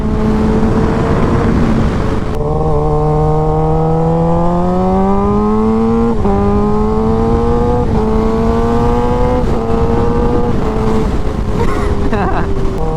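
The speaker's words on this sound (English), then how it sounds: "The ZX6-R actually sounds really good too." A high-revving Kawasaki ZX6-R sport motorcycle engine climbs and drops through gear changes, loud and sustained, its whine rising steadily between shifts.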